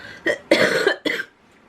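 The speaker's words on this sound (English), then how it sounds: "Oh god, my cough." A person coughs three times in quick succession, close and fairly loud, each cough harsh and short.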